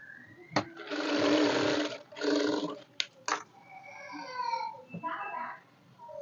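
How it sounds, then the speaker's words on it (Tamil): A sewing machine stitches a centre line on fabric, running in two loud bursts of whirring with sharp clicks in between, followed by softer talk. "சென்டராக கோடு போட இடத்துல நான் இப்போ தையல் போடுறேன்"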